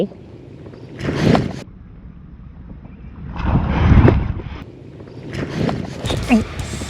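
Gusts of wind blow at a reservoir during fishing, buffeting the microphone in three rough surges with rushing noise between quieter stretches, no clear speech.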